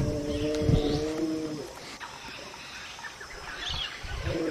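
A great-billed heron calls with low, drawn-out lowing groans like a cow in labour, a few harmonic bursts close by near the start and again at the end, over a quiet ambient background on water.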